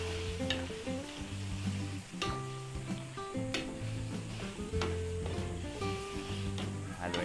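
Marinated meat for afritada sizzling in a pan, a steady crackling fry with clinks and scrapes of stirring, underlaid by soft background music.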